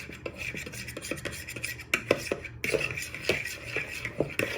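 Black pepper being stirred into chicken in a pan: close, irregular scraping and clinking of a utensil against the pan, with sharper knocks in a loose rhythm over a soft low background.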